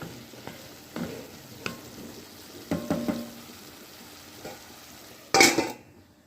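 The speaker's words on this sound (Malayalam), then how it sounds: "തുറന്നിട്ട് നമുക്കിങ്ങനെ ഇളക്കി കൊടുക്കണം" Onions frying in coconut oil are stirred in a pan with a utensil, giving a soft background sizzle broken by a few scattered scrapes and clinks and one louder clatter near the end, with no talking.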